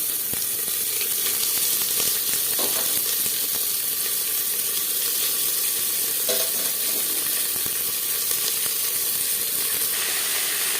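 Onions hiss and sizzle steadily in hot oil in a pan while a spiced Bihari-style potato mutton curry is being cooked, a continuous close frying crackle with a few brief clatters of stirring.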